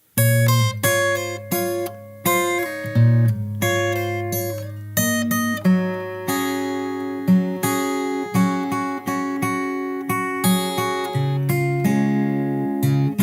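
Fingerstyle acoustic guitar plays the four-bar post-chorus of a song, a steady stream of plucked notes over a rhythmic bass line, close and clear with no talking.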